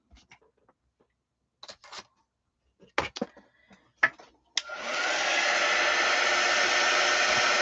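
An electric hair dryer switches on and runs steadily with a loud airy whoosh while drying a handmade craft piece. Light tapping and handling noises come first, then the dryer's continuous blowing carries through to the end.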